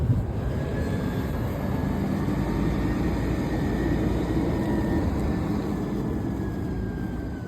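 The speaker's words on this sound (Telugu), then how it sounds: "స్కానియా ట్రక్ అండి ఇది." A Scania double-container truck rolling past on a road in Hungary, a heavy low engine rumble and broad tyre roar holding steady and fairly close for several seconds, with no voices.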